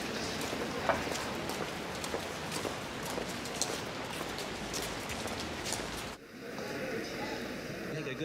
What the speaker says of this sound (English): Sure is raining, isn't it?